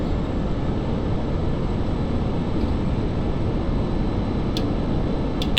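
A MiG-21bis jet engine roars at full power during a go-around in Digital Combat Simulator, a loud, steady broadband roar with no let-up.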